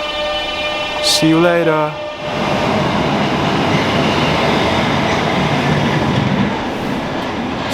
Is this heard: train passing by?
yes